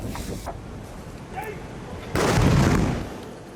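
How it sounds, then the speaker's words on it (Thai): Royal 21-gun artillery salute fired at an air force aviation park by an anti-aircraft guard regiment, heard as a loud, broad boom swelling over a sustained rumble, with faint talk earlier. "ทำการยิงสลุดหลวงเฉลิมพระเกียรติ21 นัด"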